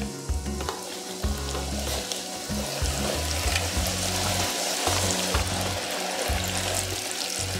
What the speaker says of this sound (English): let these fry anywhere from 4 to 6 minutes, depending on how crispy you like it to be